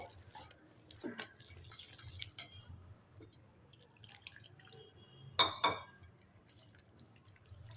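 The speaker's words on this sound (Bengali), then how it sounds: "অল্প অল্প করে জল দেব আর এভাবে মেখে নেব মেখে ব্যাটারটা বেশ পাতলা করতে হবে" Egg batter being thinned with small splashes of water and stirred in a bowl, giving soft drips and a couple of sharp clinks against the bowl amid quiet background noise.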